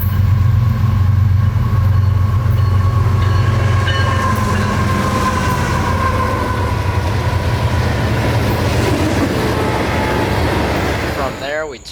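CSX freight train led by a pair of Patriot locomotives rounding a curve near the old Dade City Depot, a loud sustained rumble with steady rail noise and squeal up close, tapering off at the end.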